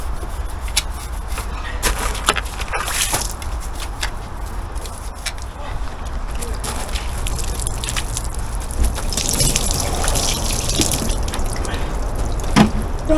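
Water from a hose splashes steadily over a Royal Enfield Classic 350 motorcycle being rinsed, a continuous close hiss and spatter with brief louder bursts and dripping throughout.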